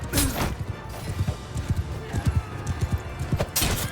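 Horse hooves in the medieval battle game Mount & Blade II Bannerlord clip-clop in a quick, regular rhythm close by, mixed with clashing battle noise and brief rushes of sound.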